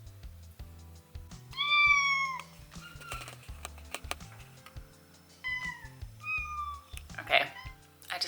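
Several house cats meow repeatedly in a kitchen at feeding time as food bowls are handled, their insistent cries coming in bursts close by, with some clattering and light tapping between them.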